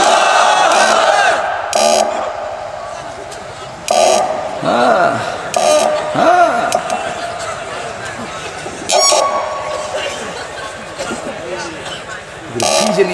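A crowd at a Bengali Islamic waz sermon gathering responds with loud repeated shouted chants in bursts, the sound echoing through the venue with a voice calling out between the responses.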